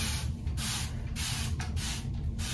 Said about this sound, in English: I just like the spray of the bottle.